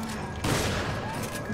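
A short, dense burst of gunfire in the video game Resident Evil 5, loud and close, with a heavier thump midway through the brief stretch.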